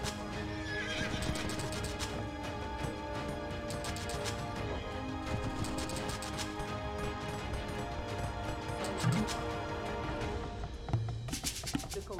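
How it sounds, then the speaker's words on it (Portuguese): Horses from Age of Empires 2 HD neigh and whinny repeatedly over dense, continuous clip-clop hoofbeats and battle clatter, loud and busy throughout, with no talking. "Vai ter cavalos aqui agora."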